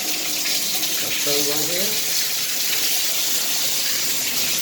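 Water runs steadily from a Price Pfister shower valve, a loud continuous hiss and gush that fills the whole clip, with someone speaking briefly over it.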